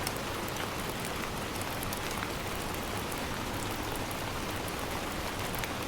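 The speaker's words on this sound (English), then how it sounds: "the pitter-patter of rain filled the air" Steady rain patters against a window pane as a dense, even wash of drops with small scattered ticks, moderately soft and continuous throughout, with no voices.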